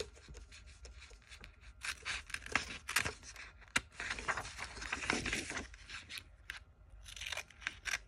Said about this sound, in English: And now that that's taped, we're going to cut it out.